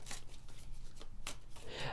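Tarot cards being shuffled and drawn, with repeated close papery riffles and slides that come in bursts and stay loud and steady through the whole stretch.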